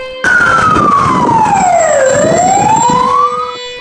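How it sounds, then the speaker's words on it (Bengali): A loud ambulance siren sweeps down in pitch and then back up, close and continuous, with faint engine rumble beneath. "অ্যাম্বুলেন্সে করে হসপিটালে নিয়ে যায়"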